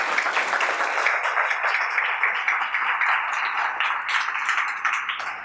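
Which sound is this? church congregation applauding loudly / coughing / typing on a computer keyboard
church congregation applauding loudly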